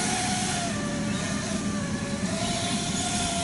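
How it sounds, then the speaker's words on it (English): A noisy winch on a charter boat heading out near the open ocean, giving a steady, loud mechanical grinding drone with a faint whine running through it, continuous and unbroken, with no voices. "And that's a very noisy winch."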